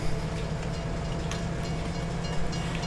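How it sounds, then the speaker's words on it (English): A train in a video game rumbles along with a low steady hum and faint rattling, moderately near and continuous, with no voices over it. "Is that train reversing?"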